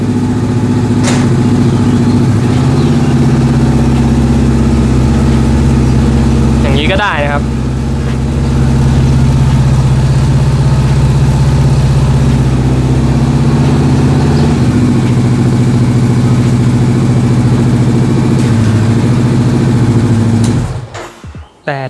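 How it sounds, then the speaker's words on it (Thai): A Honda CBR500R motorcycle engine runs steadily in first gear, a close, loud, even drone that holds for most of the time with a slight shift in pitch midway and a brief clatter at the end. "สตาร์ทรถแล้วก็เข้าเกียร์หนึ่งนะครับ"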